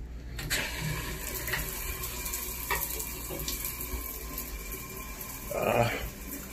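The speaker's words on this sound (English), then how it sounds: "I should turn on the shower." A bathroom shower runs just after being turned on, following a drain clog cleared with Drano. The water gives a steady hiss with a brief louder splash near the end.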